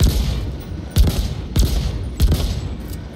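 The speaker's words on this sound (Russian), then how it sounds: "Уникальный пистолет, который поджигает." Unique incendiary pistol firing in The Ascent video game, four loud, sharp shots spaced roughly half a second apart over a steady rumbling background.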